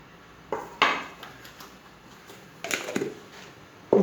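Flour batter for an economical muskoutchou sponge cake being mixed in a bowl, with a few bursts of utensil clatter and scraping against the bowl separated by quiet pauses.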